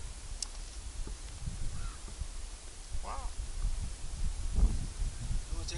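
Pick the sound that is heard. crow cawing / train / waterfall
crow cawing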